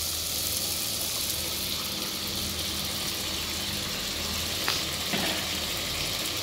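Mutton frying in oily tomato masala, a steady loud sizzle running throughout with scraping stirring strokes near the end, no voices.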